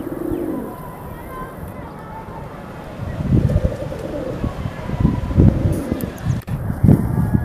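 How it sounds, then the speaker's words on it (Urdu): Domestic pigeons for sale, close by, coo in soft low bursts that swell toward the end over a steady background hiss, with someone talking now and then. "بہت ہی شاندار کبوتر ہے"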